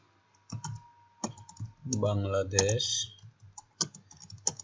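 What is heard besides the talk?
typing on a computer keyboard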